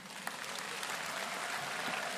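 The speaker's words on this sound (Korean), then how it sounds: "큰 박수로 맞아주시기 바랍니다" Audience applause at a church service held for a regional Liberation Day joint worship in Jeonbuk, a soft, continuous patter of many hands heard from a distance, fairly faint with an occasional sharper clap.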